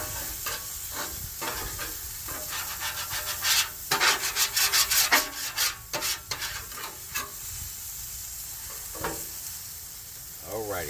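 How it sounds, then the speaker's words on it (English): A metal scraper rasps across a Blackstone griddle, clearing food residue beside sizzling stir fry. Repeated rough strokes come in quick bursts, loudest in the middle, over a constant frying hiss. "I'm gonna scrape some of this off of here"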